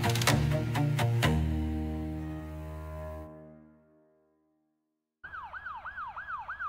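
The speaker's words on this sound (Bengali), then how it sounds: "ট্রুপার তেলেস্কি গাড়ির সাইরেন বাজাতে বাজাতে খাড়ি পথ দিয়ে ছুটে চলল" A police car siren plays as a sound effect: a few sharp hits, then a sustained tone that fades to silence, followed by a loud wailing siren that sweeps up and down repeatedly.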